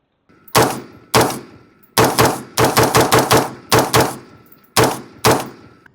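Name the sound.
gunshots, firing more shots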